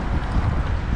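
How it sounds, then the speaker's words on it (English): Wind and swell batter a fishing kayak near bridge pilings at the Chesapeake Bay Bridge-Tunnel, a constant low roar of wind gusts over the microphone mixed with water sloshing, close and steady throughout. "swell and the wind makes the fishing pretty tough"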